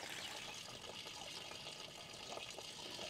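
Faucet running water into the drain of a tiny house, a steady faint splashing gush that continues evenly for a few seconds with no talk.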